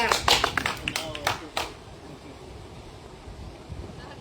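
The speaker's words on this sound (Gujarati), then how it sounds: "એ તાળીઓ પાડો, બધા તાળીઓ પાડો." A group of people clapping hands outdoors during a farmers' walking march in Ghed, a quick burst of sharp claps over the first second and a half, then breezy wind noise with faint voices.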